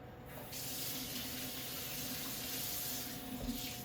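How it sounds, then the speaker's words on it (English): Warm water runs steadily from a tap onto dehydrated vegetables, a continuous hissing, splashing flow at close range that holds even throughout with no voices. "This time I'm gonna put some warm water because it'll help them hydrate better"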